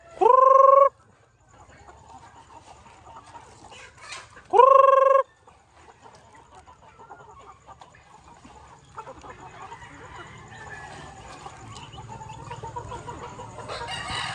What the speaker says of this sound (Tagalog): yung mga upgraded native natin na mga uh, manok at saka itong heritage breed na mga roosters